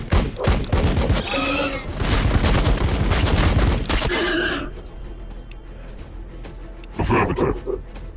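Bursts of heavy gunfire and explosive blasts from the Warhammer-style tactical game Battle Sector, loud and dense at first, then fading to a quieter rumble before another short burst near the end.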